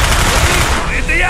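Rapid gunfire from a shotgun in the shooter game Call of Duty Black Ops rattles loud and continuous for a moment, with someone talking over it.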